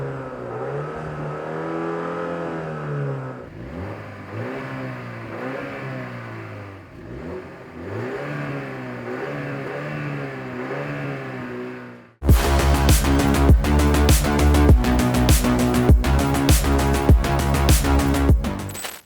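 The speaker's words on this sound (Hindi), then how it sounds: "लेकिन उससे पहले इसके एग्जॉस्ट के साउंड का थोड़ा सा मजा लीजिए" A 2025 Mini Cooper Convertible with a 2-litre twin-turbo petrol engine revs repeatedly, its exhaust rising and falling in loud, close sweeps, before music abruptly takes over for the final stretch.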